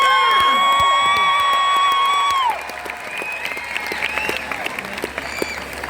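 A Tamil association audience at a musical event in Muscat applauds and cheers to welcome a performer, loud dense clapping with whoops, while a sustained musical tone rings over the first half before fading.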